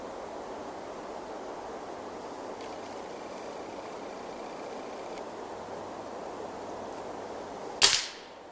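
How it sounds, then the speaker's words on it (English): A Benjamin air rifle fires one sharp, loud shot near the end, after a long stretch of quiet background hiss. "This thing recoils quite a bit"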